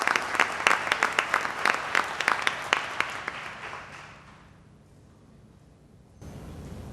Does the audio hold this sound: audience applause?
yes